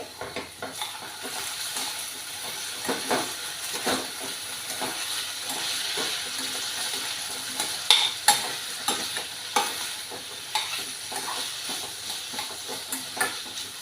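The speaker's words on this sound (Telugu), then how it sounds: "ఈ దుంపలు ఎర్రగా వేగినంత వరకు మూత పెట్టేసి మధ్య మధ్యలో కలుపుకుంటూ ఉంచాలండి." Potatoes frying in a pan with dal tempering, a continuous hissing sizzle with frequent spatula scrapes and stirring knocks that grow busier toward the end, heard up close for several seconds.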